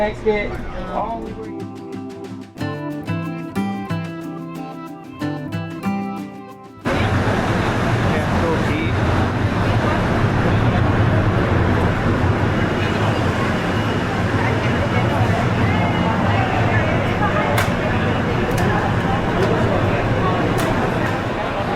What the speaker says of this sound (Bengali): ট্রেন এখন ছাড়লো, আমরা এখন শুরু করছি আমাদের জার্নি